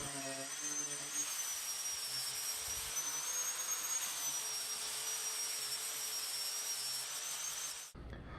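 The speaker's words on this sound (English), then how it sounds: "I just have a carving disc on the grinder and just going at it." An angle grinder fitted with a carving disc shapes the edge of a live-edge wood slab for a coffee table. It gives a loud, steady high whine with rough grinding noise that runs nonstop and cuts off just before the end.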